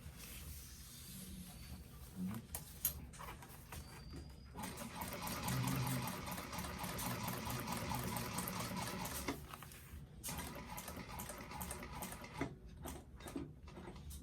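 A sewing machine stitches long straight seams on a bag, run slowly in steady whirring bursts with short pauses between them, fairly quiet and close.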